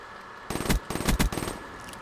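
Pistol shots in a first-person shooter video game, a quick cluster of sharp, fairly loud reports over about a second and a half, some of them rapid, with no talking.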